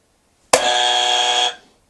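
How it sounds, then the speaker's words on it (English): A quiz-style buzzer sounds once in a single sustained, loud electronic tone lasting about a second, with a sharp onset and short tail, and no talking over it. "It's a buzzer."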